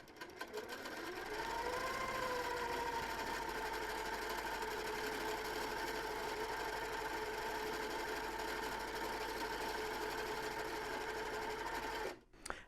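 A sewing machine stitches a quilt with a steady, close whirring drone that holds evenly for about ten seconds before stopping abruptly near the end, with no talking.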